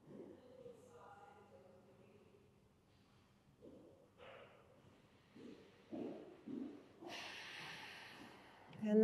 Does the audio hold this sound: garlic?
no